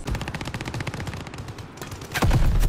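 Rapid automatic gunfire in the video game Warzone, a steady rattling burst of closely spaced shots that thins out, then a louder, heavier volley that ends the clip.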